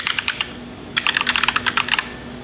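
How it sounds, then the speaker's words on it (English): A domain name is typed on a computer keyboard: crisp close keystrokes come in a short run, pause briefly, then follow in a faster cluster of clicks, with no talking. "And then we're gonna type in that domain name."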